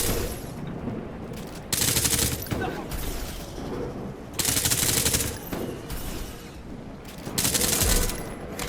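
Gunfire in the video game Nuclear Epoch, with three long sustained bursts of rapid automatic shots between quieter stretches of steady background game noise.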